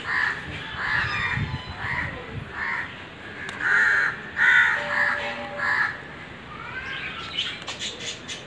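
Crows cawing from trees around a house, a series of harsh repeated caws near and fairly loud, with other birds chirping faintly in the background.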